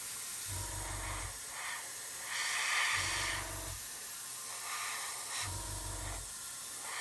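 An airbrush spraying Vallejo Model Air acrylic paint gives a continuous soft hiss, with three short low pulsing bursts, probably from the compressor, spaced a couple of seconds apart.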